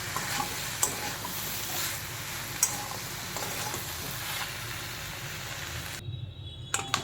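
Chicken stew seasoned with ground black pepper and salt is stirred in a pot, giving a soft, continuous sizzle with a few sharp utensil knocks scattered through it, then it quiets toward the end.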